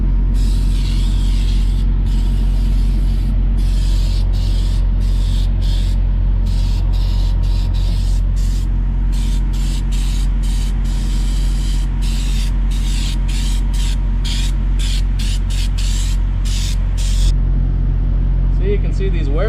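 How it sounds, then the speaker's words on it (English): Aerosol lubricant hisses in long and short bursts onto worn equipment parts, close and loud over a constant low engine rumble. "Need to lube all this up here."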